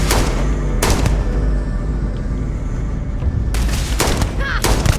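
Gunfire from the sci-fi shooter Starfield, a dense, loud in-game firefight with repeated sharp broadband blasts at the start and again near the end over a steady rumbling background, with no speech.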